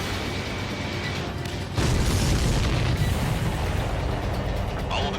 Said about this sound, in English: All of the missiles have been destroyed.